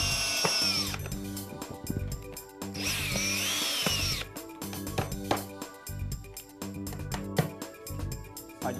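A power drill drives screws into an oven housing appliance unit during assembly, with several bursts of whirring motor and sharp clicks and knocks from the wood, all close up and with no talk.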